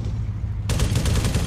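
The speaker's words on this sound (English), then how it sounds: "1-6 are taking RPG fire in front of the convoy" Gunfire and RPG fire strike a military convoy: after a low rumbling lead-in, a sudden loud burst of rapid automatic fire breaks out, close and sustained until the end.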